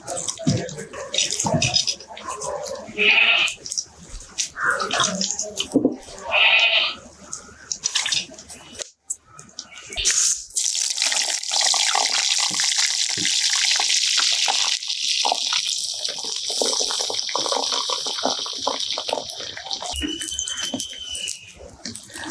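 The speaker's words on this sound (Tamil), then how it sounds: "கத்திரிக்காய் கழுவி எடுக்கணும்." Eggplants are washed by hand in water in a home kitchen, with splashing and sloshing in a bowl, then a long stretch of steady running water, close and fairly loud.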